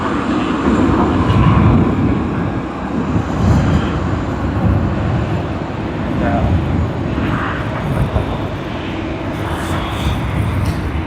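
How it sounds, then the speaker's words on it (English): An Atlas Air Boeing 747-400 at Sydney Airport, near runway 16, gives a steady, loud jet roar that fills the whole span, with talk over the engine noise. "There you are, Atlas Air, Boeing 747-400."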